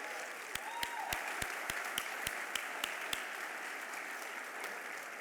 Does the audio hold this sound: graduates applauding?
yes